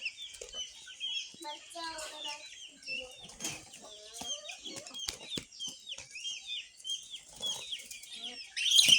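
Pigeons take off with bursts of flapping wings near a backyard coop, mixed with clucking chickens and nearby voices talking.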